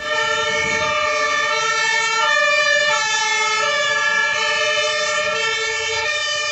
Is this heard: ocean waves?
no